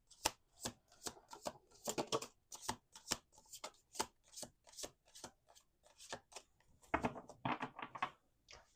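Angel oracle cards are shuffled by hand in a series of crisp riffling bursts in quick, uneven rhythm, close and quiet, with no talking.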